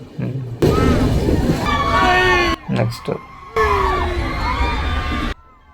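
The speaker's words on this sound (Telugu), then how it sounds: "నెక్స్ట్ టన్నెల్ అరుపులు చూడండి ఎలా ఉంటాయో." Passengers on a train shout and whoop together inside a tunnel in loud, sustained bursts of crowd yelling, broken by short gaps and brief voices in between.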